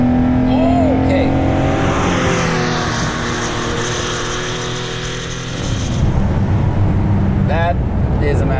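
A car engine pulls hard at full throttle in fourth gear from around 4,000 RPM, a loud rising drone heard from inside the cabin while people talk over it.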